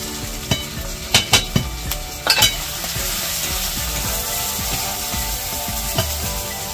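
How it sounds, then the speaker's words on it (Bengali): Spice masala of cumin powder, red chilli powder, turmeric and salt sizzles steadily in a pan for palak paneer, with a few sharp stirring scrapes early on and a continuous frying hiss throughout. "মশলাটা একটু কষিয়ে নেব"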